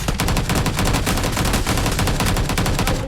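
SCAR assault rifle firing in PUBG: New State, a loud, dense stream of rapid automatic shots running continuously without pause.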